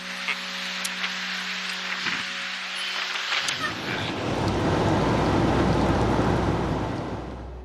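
Rain falls at a rail yard; after about three and a half seconds a dense, steady hiss of rainfall takes over, preceded by a quieter stretch with a low hum and a few scattered clicks.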